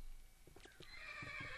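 A Minecraft pack horse gives a short, bright whinny that rises and trails off, with soft hoof clops beneath it, fairly quiet and alone.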